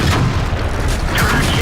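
A KV4 tank's cannon round thuds loudly in a missed shot amid constant mechanical rumble and clatter of a tank battle game, with a second sharp crack near the end and faint talk underneath.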